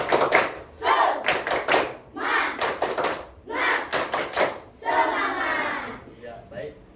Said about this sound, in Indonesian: Biar lebih bersemangat, Bapak mulai dengan tepuk semangat.